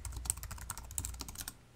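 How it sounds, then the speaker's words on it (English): Rapid typing on a computer keyboard, quiet and close, a quick uneven patter of keystrokes with no voices. "sorry, I was typing"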